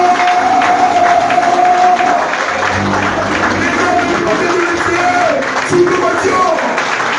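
An audience applauds at a ceremony as a name is called, a dense steady patter of clapping mixed with crowd murmur and a few voices throughout.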